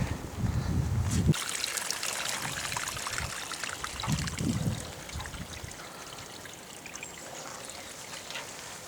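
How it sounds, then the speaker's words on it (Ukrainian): Water gushes and splashes steadily for several seconds, a close, continuous pouring rush with some rustling and thumps early on, from a winter water feeder for rabbits. "пішла вода"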